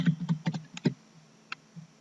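Someone types a project name on a computer keyboard: a quick burst of close key clicks, then a few scattered taps and silence.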